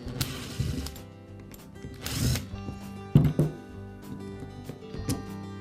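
Screws come out of the rear cover of a Makita hammer drill, with a few short close drill whirs and metallic clicks and ratcheting taps separated by quiet pauses.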